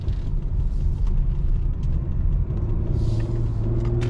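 A 2021 Ford Explorer ST rolls over a somewhat bumpy road, heard as a steady low rumble of road and engine noise with faint knocks, continuous and close from inside the cabin.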